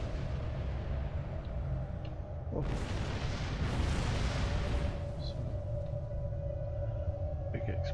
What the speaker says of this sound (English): big explosions there.